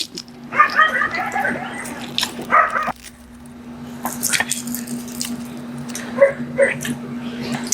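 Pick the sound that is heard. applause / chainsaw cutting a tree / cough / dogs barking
dogs barking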